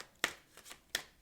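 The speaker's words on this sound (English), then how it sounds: "I did shuffle the cards for the entire reading for everyone." Tarot cards being shuffled in three sharp riffling bursts spaced apart, close and fairly quiet, with no speech.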